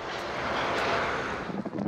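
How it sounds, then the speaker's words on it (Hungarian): An airplane lands at Rzeszów airport in Poland, a loud, steady broadband roar of jet engines with rushing wind buffeting the microphone throughout. "Újabb sikeres leszállás."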